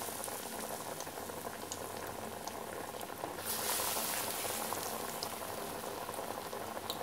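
Vada batter sizzles and bubbles steadily in hot oil, a dense, close frying hiss that briefly swells as more batter goes in, with no talk over it.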